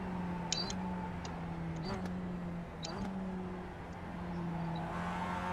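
A Mazda production race car's engine at Daytona International Speedway in iRacing drones steadily and evenly throughout, with a few faint ticks layered over the hum.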